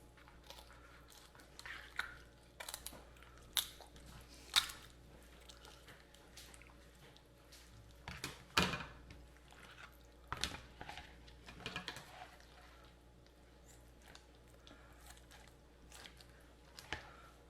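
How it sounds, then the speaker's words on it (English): Kitchen shears cutting through the breastbone of a smoked chicken, producing quiet irregular crunching snips and cracks in short bursts, with a few sharper snaps midway and no voices. "Get your kitchen shears and go in here and cut that"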